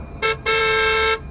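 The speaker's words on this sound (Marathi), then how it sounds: "रोहनने पुन्हा हॉर्न वाजवला." A car horn blasts twice close by on a road at night: a short honk, a brief pause, then a longer sustained blare, with no other sounds around it.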